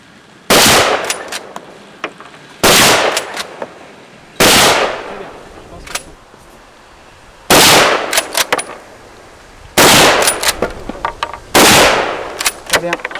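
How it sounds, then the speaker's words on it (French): Bolt-action rifle firing at a shooting range, six loud, booming shots spaced roughly two seconds apart, each followed by a ringing tail, clicking bolt handling and faint voices in between. "j'ai pas l'habitude de tirer avec des carabines verrou"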